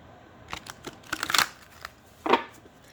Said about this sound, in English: I will just shuffle.